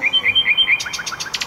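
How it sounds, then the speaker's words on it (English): A nightingale sings in woods, its song a quick series of bright repeated chirps followed by a faster trilling run of notes, clear and unaccompanied. "I heard a nightingale singing in the woods far away."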